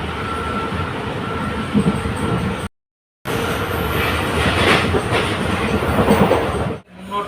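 A train rumbles along the rails with a steady rattle and clatter of wheels, loud and close, broken by a brief cut in the sound.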